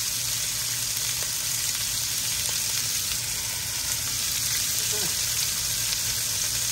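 Turkey burger patties sizzle in a pan in a batch of about nine, making a loud, continuous crackling fry that stays close and steady throughout.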